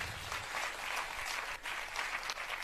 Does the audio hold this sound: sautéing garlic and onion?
no